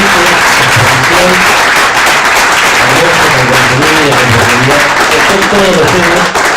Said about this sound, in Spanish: Un fuerte aplauso por esta brillante exposición.